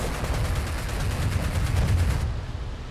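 Rapid, dense gunfire and cannon blasts from a T-90 tank in the combat game Digital Combat Simulator, rattling steadily for a few seconds as loud continuous bursts before cutting off abruptly.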